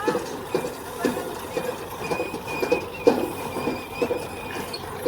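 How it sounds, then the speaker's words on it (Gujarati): A groundnut thresher running in a farm field, a steady rhythmic mechanical churning and thumping that pulses about once a second, heard up close. "જો આ ઠેસર ચાલુ જ છે"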